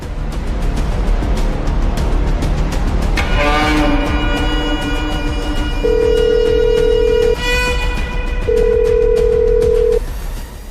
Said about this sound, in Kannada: ಫೋನ್ ಯಾಕೆ ಪಿಕ್ ಮಾಡ್ತಿಲ್ಲ ಇವರು?